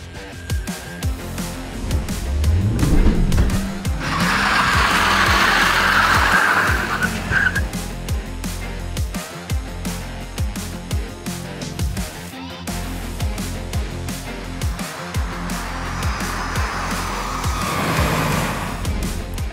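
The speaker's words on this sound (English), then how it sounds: "both cars launch forcefully, their front tires leaving behind a light trail of smoke" A Volkswagen Polo and a Fiat Abarth Punto launch hard off the line in a drag race, tires squealing and skidding as the engines roar and rev up through the gears, loud and close with no talking.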